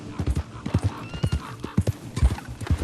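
Horse hooves clip-clop past in the open-world western video game Red Dead Redemption 2, a quick uneven rhythm of hoof falls with a brief whinny and faint game ambience.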